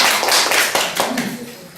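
A short round of applause from an audience at a leadership training course in Paju, steady and fairly loud, fading slightly toward the end.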